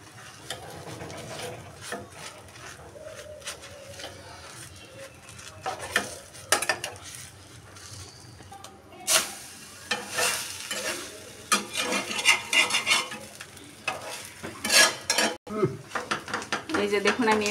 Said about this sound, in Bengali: আমি এই পিস টু পিস সুন্দর করে একদম ব্রাউন কালার করে ভেজে নিলাম